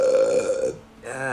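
A loud, drawn-out burp after eating a chicken meal, a single low resonant belch lasting under a second, followed by a brief pause and a voice starting to speak.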